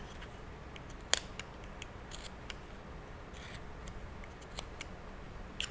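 Knife carving cuts into a wooden spoon, heard as sharp, scattered scraping clicks and snips at close range, several spaced bursts over steady low room noise with no talk.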